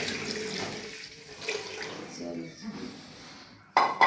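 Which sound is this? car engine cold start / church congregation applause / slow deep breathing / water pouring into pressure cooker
water pouring into pressure cooker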